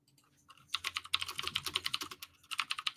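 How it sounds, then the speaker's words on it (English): Rapid typing on a computer keyboard sits right beside the microphone, with a brief pause before a dense run of crisp, close keystrokes and then another quick burst, with no voices. "You guys can hear me type now because of this keyboard. Literally right under the mic."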